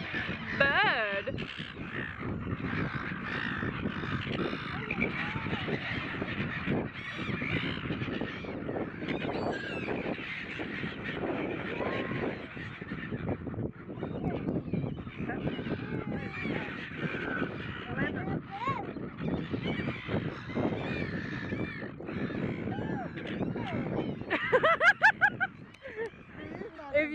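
Crows cawing repeatedly outdoors along a parkway, harsh calls scattered over steady background noise, with people talking throughout.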